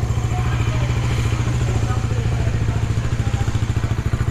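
A 2022 Bajaj Dominar 400 motorcycle with dual exhaust idles close by, its engine putting out a steady, deep, rapid pulsing throb that stays loud and even throughout.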